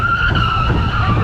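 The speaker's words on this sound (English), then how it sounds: "Oh, squeaky brakes." A vehicle's brakes squeal with a loud, sustained high-pitched whine that slides slightly in pitch over about a second, heard close up with road noise underneath.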